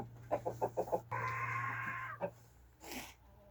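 Hens clucking nearby in a coop in spring: a quick run of five rhythmic clucks, then a longer drawn-out squawking call, followed by a few softer clucks and rustling, with no talking.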